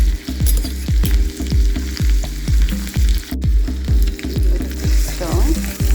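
Mustard seeds and washed white urad dal frying in hot oil, giving a close, steady sizzle broken by a regular run of sharp popping crackles, with brief stirring scrapes.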